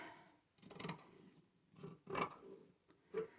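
Scissors trimming a piece of fabric for a fabric envelope, a few close, quiet cutting snips spaced unevenly with soft rustling between them.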